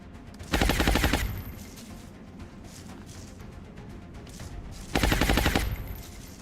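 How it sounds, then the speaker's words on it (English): Two loud bursts of rapid weapon fire from a grenade launch in XCOM sound close and dense, each lasting under a second, with quieter rumbling game ambience between them. "We're going to do one for all and shoot a grenade."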